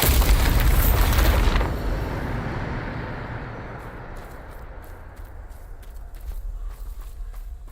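A spell explosion in a video game detonates with a loud, sharp blast, then fades into a long, rumbling decay. The roar settles to a low, steady tail with faint crackles near the end.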